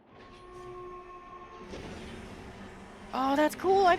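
A short horn-like honk sounds as elevator doors open in the Star Citizen video game, a bright tonal blast rising over a steady low ambient hum near the end.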